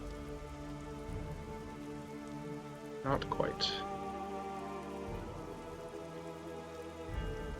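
Steady, soft rain patters on a surface as a continuous wash of noise behind a faint hum, while a voice briefly speaks over it partway through.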